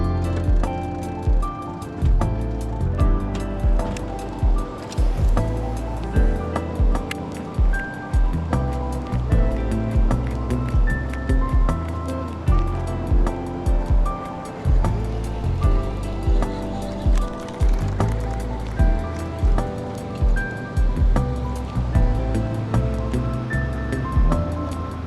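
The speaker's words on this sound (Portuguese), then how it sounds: "Estamos descendo agora o Rio Trombetas" A boat travelling down the Trombetas river on a fishing trip, with a continuous rushing of water and engine drone and a regular pulsing slap of the hull on the water throughout.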